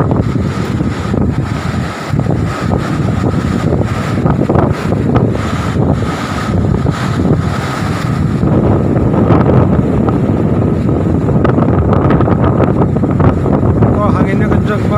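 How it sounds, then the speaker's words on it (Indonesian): Strong wind roars and buffets the microphone on a beach at Pantai Pesona Krakatau in Anyer, a loud continuous rushing that covers the whole stretch. "anginnya kencang banget"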